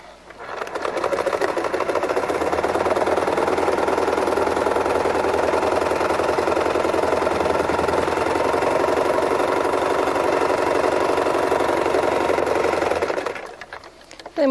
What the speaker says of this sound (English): Make sure you're going to sew a nice straight seam.